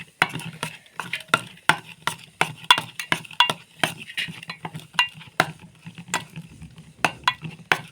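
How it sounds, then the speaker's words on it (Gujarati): Steady rhythmic stirring of dhokla batter made with semolina, water and eno, a spoon scraping and clinking against a metal bowl again and again, close up and alone with no talk. "ને હલાવી નાખશું।"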